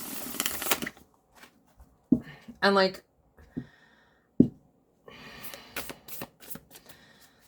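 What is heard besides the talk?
shuffling a tarot card deck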